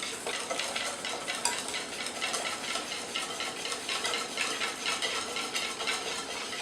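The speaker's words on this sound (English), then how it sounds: "So my milk has boiled and I'm adding it slowly to my egg mixture." Hot boiled milk is added slowly to an egg and corn flour mixture for a trifle custard while a whisk or spoon stirs, making a continuous rhythmic swishing and light clinking close by.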